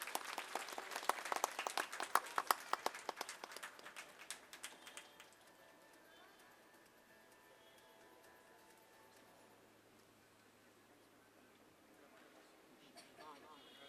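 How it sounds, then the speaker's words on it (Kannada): A crowd at a community get-together applauds, a lively burst of clapping that tapers off after several seconds and leaves a quiet room with faint murmurs. "ಯೂಟ್ಯೂಬ್ ಚಾನೆಲ್ ಓಪನ್ ಮಾಡೋಕೆ ಚಪ್ಪಾಳೆ"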